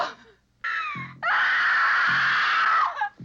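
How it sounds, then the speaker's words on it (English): Star Trek original series scream: a short shriek, then a long, loud, sustained wailing scream that breaks off abruptly, heard close with no talk over it. "That scream."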